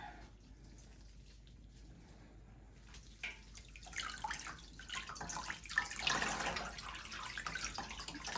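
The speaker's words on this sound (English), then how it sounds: "I have a bowl full of clean water in here" Clean water sloshes and trickles in a bowl as wool fiber is handled for dyeing in a catering pan. Quiet at first, then louder splashing and dribbling toward the end.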